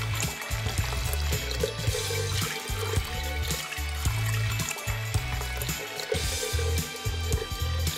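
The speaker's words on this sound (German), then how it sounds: "Lass uns den Behälter mit Wasser füllen." Warm water runs steadily into a container for color-changing dolls, a continuous splashing fill with a low rumbling undertone throughout.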